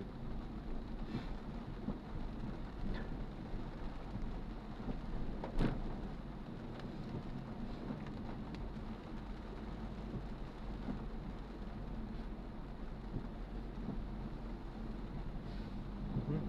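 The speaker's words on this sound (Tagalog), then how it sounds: "Buti humina na ulit yung ulan" Steady rain falls in a flooded residential street in Nangka, Marikina, a dense, even hiss throughout with a low rumble underneath and faint scattered knocks, no voices.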